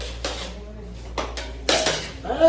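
A pot being stirred at a birthday party, a few distinct scraping and clanking strokes of a utensil against the pot, close and moderately loud, with faint voices in the background.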